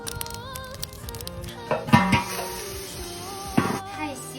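Metal wok lid clanking onto a pot of braised tofu with corn cakes cooking inside, two sharp rattling knocks over a soft background sizzle.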